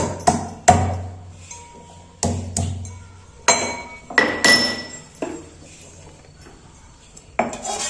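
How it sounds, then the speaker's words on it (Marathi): Ginger for a fish fry is crushed with a series of sharp pounding knocks and metallic clinks, about eight uneven strikes spaced across the clip, close and fairly loud with quiet gaps between. "आता याच्यात आपण अद्रक घ्यायचं, थोडं ठेचून घ्यायचं कारण जाड आहे ते"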